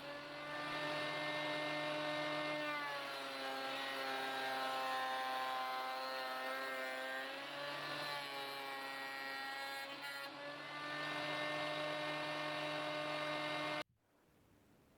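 A jointer planes the edges of boards for an Xbox stand, a loud, steady, harmonic machine whine running continuously, with small shifts in pitch as the cut loads and eases, then stopping abruptly near the end.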